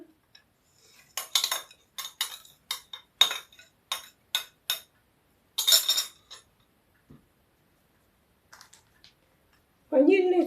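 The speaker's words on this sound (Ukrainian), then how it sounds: "розітру зараз яйця з цукром і сіллю" Eggs with sugar and salt stirred in a bowl, a utensil clinking rapidly against the sides in short bursts of scraping taps, with pauses and a brief voice near the end.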